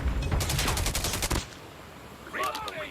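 Video game gunfire crackles in a rapid automatic burst for about a second and a half, loud and close. After a short pause, fainter shots and effects follow.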